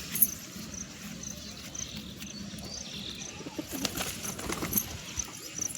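Pet pigeons, some newly brought home, move about and take short flights, giving faint coos and brief wing flutters against a busy background of chirping insects and other birds.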